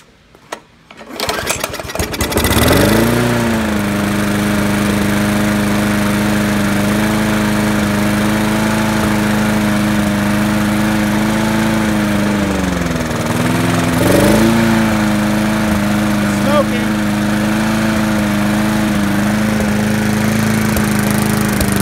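A Murray lawnmower engine catches after a rough start and then runs steadily at a loud, close, even drone, dipping briefly once mid-run before settling back to a constant idle.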